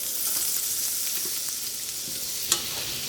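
A tablespoon-sized knob of butter melts in a hot frying pan with leftover sausage fat, giving a soft, steady sizzle heard close, with one sharper tap or clink near the end and no talking.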